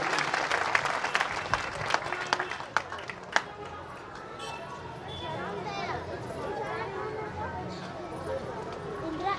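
Audience applause welcoming the national vice president at a party gathering in Chhattisgarh, with brisk clapping for about three seconds, then fading into crowd murmur and chatter.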